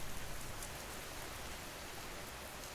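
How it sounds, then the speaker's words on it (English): Steady rain, a dense even hiss that stays constant and fairly quiet, with no voices or other sounds over it. "The rain hammered against the windows of Melissa's third-floor apartment in downto"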